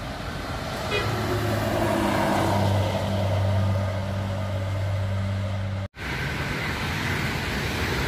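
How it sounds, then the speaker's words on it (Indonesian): A tour bus passes on the Trans Java toll road near Km 583, sounding a loud, low, sustained multi-tone horn over rushing highway traffic, followed by a brief dropout and continued road roar. "Dari arah timur ada bus pariwisata ya."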